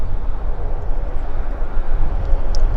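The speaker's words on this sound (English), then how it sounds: "I hear engines running." Aircraft engines run on the ramp at Vancouver Airport near the South Terminal. They make a steady, broad roar that holds even throughout, with no talk.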